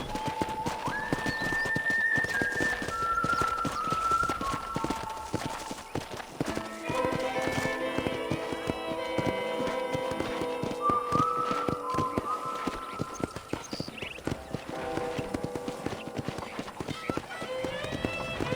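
Horse hooves clip-clop steadily in the Red Dead Redemption video game, a continuous trotting beat under a loud orchestral score with whistles and strings, and a voice speaking in places.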